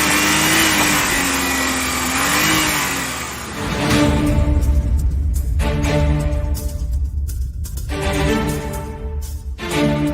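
Scalextric slot cars race round a track in a promotional clip, six cars at once: a steady electric whine and motor buzz fills the mix, with passing cars swelling and fading, loud and close, after an opening stretch of brighter background sound.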